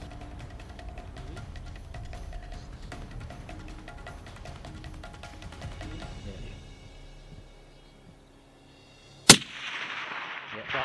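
A single sharp shot from a Benelli Lupo .300 Win Mag bolt-action rifle cracks loudly outdoors near the end, following a stretch of low ambient rumble and quiet.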